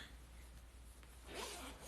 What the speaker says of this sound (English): this zips up